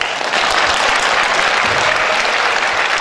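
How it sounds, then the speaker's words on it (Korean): Loud, dense applause fills a hall as a church congregation claps at a thanksgiving service for the installation of the president of the Christian Council of Korea. The applause is steady and sustained throughout and heard close, with no voices over it. "박수 한번 해요."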